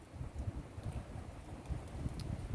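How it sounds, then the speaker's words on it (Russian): Wind gusts over an outdoor campfire on a riverbank, a soft low rushing and buffeting with faint crackle, fluctuating in strength throughout and fairly quiet. "О, как ветер раздувает огонь."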